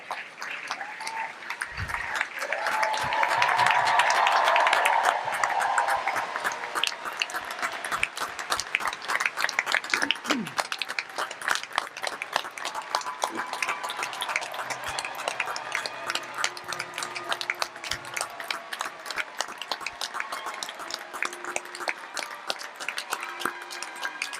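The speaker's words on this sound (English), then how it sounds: "join me in a well-deserved round of applause for our graduates, but as always, you beat me to it" A large audience applauds graduates at a fall quarter graduation ceremony, with dense, steady clapping that swells early and then continues evenly throughout.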